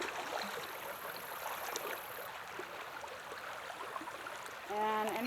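Water is poured from a cup to top off a turbidity tube, producing a steady, soft trickling splash with a brief louder gurgle near the end.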